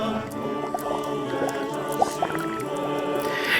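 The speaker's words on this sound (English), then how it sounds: "This one has been boiling for 2 weeks." Water with a chunk of bronzite chondrite simmers in a pan, giving soft irregular bubbling, popping and dripping sounds at close range.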